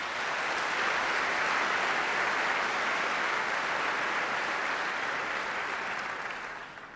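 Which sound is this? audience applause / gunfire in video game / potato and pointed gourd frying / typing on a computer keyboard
audience applause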